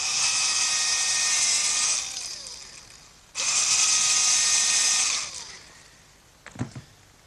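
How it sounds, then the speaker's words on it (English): A high-pitched drill whines steadily for about two seconds boring a pilot hole in hard oak, pauses briefly, then runs again, winding down to a few soft knocks at the end. "I'm going to have to drill a pilot hole for the screws"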